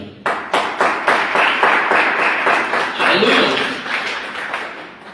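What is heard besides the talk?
congregation clapping and applauding in church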